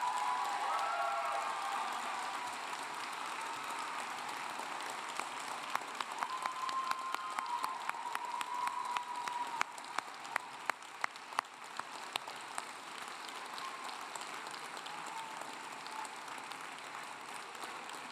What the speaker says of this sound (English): stand and just give those people an even louder round of applause than they gave you earlier